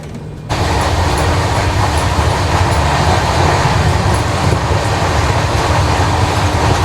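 Garib Rath express train running on rails between Lucknow and Raipur, a loud, close, steady rumble with rhythmic wheel clatter that swells sharply in the first half-second and then holds without pause.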